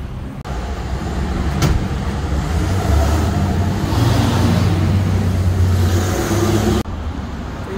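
Car reversing out of a parking spot at a Sunoco gas station, with a steady, loud engine rumble and roadway noise running throughout and no speech.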